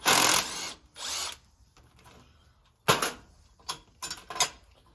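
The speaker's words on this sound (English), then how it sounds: "Now I'm taking the bearing apart." Power tool or ratchet work taking apart the arm bearing of a tarp kit on a 7x12 Moritz dump trailer, heard as several short, close mechanical bursts separated by near-silence, with no speech.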